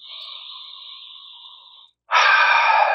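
A long, slow breath held steady for nearly two seconds, then after a brief gap a louder, rougher breath follows, close and clear, during a guided astrology meditation with no speech.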